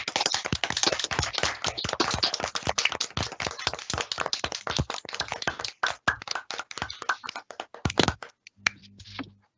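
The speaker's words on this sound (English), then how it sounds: "So can we have applause for Nigel Patterson?" Applause at a conference closing session: a crowd claps loudly in a dense burst of many hands that gradually thins out and fades to a few scattered claps before stopping.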